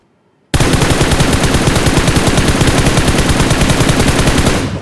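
Sustained automatic gunfire in the mobile battle royale game PUBG Mobile starts abruptly after a brief silence, a loud, rapid, evenly spaced burst of shots that runs for over four seconds before cutting off, with no talking.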